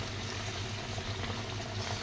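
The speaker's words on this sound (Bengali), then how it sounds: "জলটা ফুটছে" Water boils in a pan while a mustard hilsa dish cooks, giving a faint, steady bubbling churn with a low rumble and no voices.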